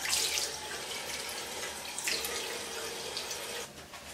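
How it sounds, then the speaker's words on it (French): Tap water runs steadily into a sink as a clay face mask is rinsed off during a night skincare routine, a continuous close hiss with small splashing surges, no talking. "c'est bon, le masque a séché, on va rincer."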